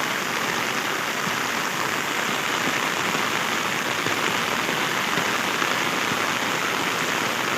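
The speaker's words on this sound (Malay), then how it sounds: "Dah tengok malam hujan balik, hujan lebat." Heavy rain pours down at night in Kuantan during flooding, a steady, dense broadband hiss that holds evenly throughout with no voices.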